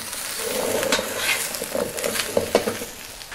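Pumpkin and celery frying in a wok, a steady close sizzle with occasional scraping stirs and light clinks.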